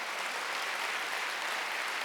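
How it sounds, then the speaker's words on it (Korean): Congregation applauding during a Korean church Wednesday worship sermon, a steady dense wash of many hands clapping that fills the whole stretch with no voices standing out. "박수하세요."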